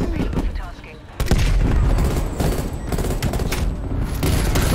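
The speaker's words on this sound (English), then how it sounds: "that shotgun is going nuts" Rapid shotgun blasts from a street sweeper shotgun in a video game, loud and dense, firing in quick succession with players talking over them.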